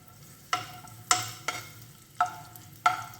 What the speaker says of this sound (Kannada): ತುಪ್ಪ ಸ್ವಲ್ಪ ಬಿಸಿ ಆದಮೇಲೆ ಒಣ ದ್ರಾಕ್ಷಿ ಮತ್ತು ಗೋಡಂಬಿ ಸಣ್ಣದಾಗಿ ಕಟ್ ಮಾಡ್ಕೊಂಡಿರೋದು ಹಾಕ್ಕೊಳ್ತಾ ಇದ್ದೀನಿ.